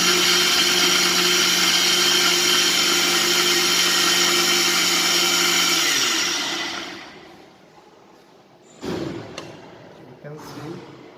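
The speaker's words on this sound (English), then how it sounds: "So now we will grind the whole mixture with the helping of the" A mixer grinder roars steadily while blending a broccoli soup mixture, a loud whirring drone that spins down and stops partway through, followed by a couple of clunks as the jar is handled.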